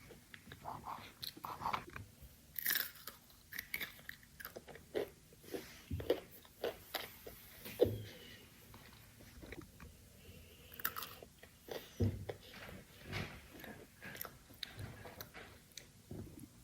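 Crunchy pretzels dipped in Nutella are chewed close to the mic, with steady irregular crunches and bites throughout and no talking.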